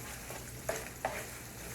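Ground beef browns in a frying pan with a steady, moderate sizzle, broken by two brief scraping stirs.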